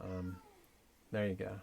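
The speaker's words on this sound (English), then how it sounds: "can hear my cat in the background." A house cat meows twice nearby, a short cry at the start and a louder double meow near the end, with someone speaking briefly between them.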